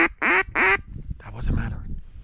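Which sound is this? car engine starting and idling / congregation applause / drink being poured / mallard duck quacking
mallard duck quacking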